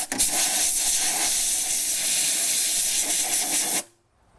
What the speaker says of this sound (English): I'm just going to air blow this out first.